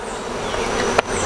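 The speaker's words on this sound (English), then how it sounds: "bees coming in and out" Honeybees buzz steadily at an open hive entrance with regular traffic coming in and out, a close, continuous drone with one brief louder burst near the end.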